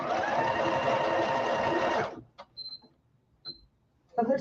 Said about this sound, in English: Just do a little bit of stitching.